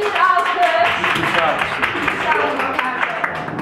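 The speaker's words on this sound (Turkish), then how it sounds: "Murat Bey'e bir alkış." Audience applause at a book signing event, a crowd clapping steadily throughout with voices talking over it.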